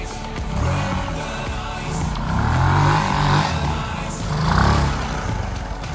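A vintage Honda TLR 200 trials motorcycle engine runs steadily nearby, its low throb rising and falling in a few gentle surges of throttle, with no talk over it.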